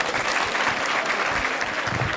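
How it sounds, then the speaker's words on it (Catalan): A street crowd claps steadily and densely for a Virgin Mary statue carried in procession, its first outing in two years. The clapping is continuous and fairly loud throughout. "Aplaudiu a la nostra mareta."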